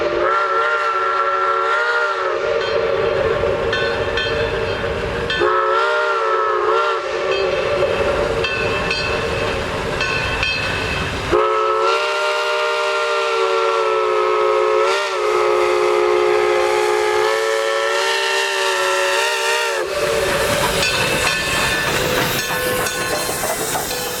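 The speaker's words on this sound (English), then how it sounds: "As the train approaches Whittier, we catch it one more time as it crosses Clearwood Drive" Smoky Mountain Express steam train passing a road crossing near Whittier, with long, loud, sustained whistle blasts repeated several times over steady steam hiss and rolling rumble, close and continuous.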